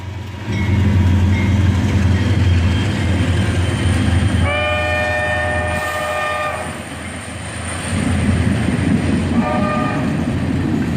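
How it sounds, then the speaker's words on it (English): A freight train led by an ET44AH locomotive with a GP40-2 and a GP40 road slug rolls past near a gas station, a loud steady rumble with two bursts of multi-chime horn, the second shorter, and no voices. "Another catch at the gas station, with an ET44AH leading and a GP40-2 mother following."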